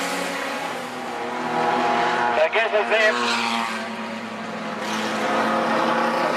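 Outlaw sedan race cars roaring around Macs Speedway at night, engines droning loud and sustained with a brief burst of revving mid-pass, under a commentator's talk.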